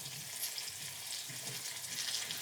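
Food frying in a pan, a continuous close hissing sizzle with faint bubbling and light stirring, no talk.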